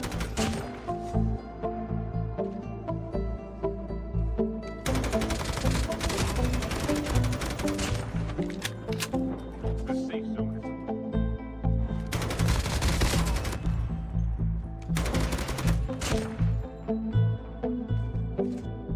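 Bursts of M4 assault rifle fire from COD Mobile, set up with a long-range loadout, come as rapid automatic volleys, loud and close, broken by short pauses and layered over a steady game soundtrack.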